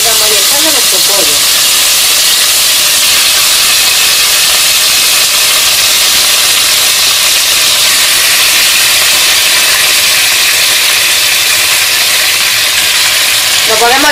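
Raw marinated chicken going into a pan of hot oil for a stew, giving a loud, steady broadband sizzle and hiss that fills the whole stretch, close up, with a voice talking briefly at the start and end.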